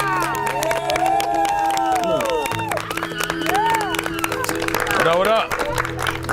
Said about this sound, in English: give a big round of applause for your bachelor, Drewski